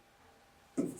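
Chalk or marker scratching on a classroom board during a biology lesson on human reproduction, a brief burst of writing starting abruptly near the end after quiet.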